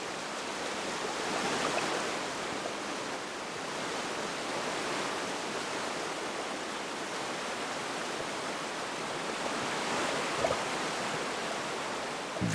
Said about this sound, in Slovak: Keď sa hučiaca voda prelomí cez skalnatý prach, tečie nad štrkovou doskou koryta.